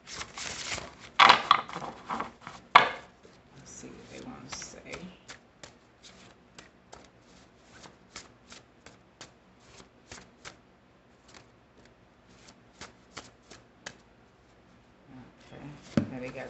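A deck of cards riffled and shuffled several times up close, then a long run of soft, evenly spaced card snaps and flicks, with a brief shuffle again near the end.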